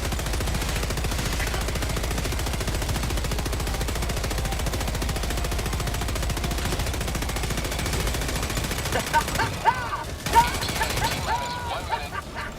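A turret gun in Helldivers 2 fires in a long, steady, fast stream of loud close shots, then breaks off near the end into scattered bursts with a voice speaking.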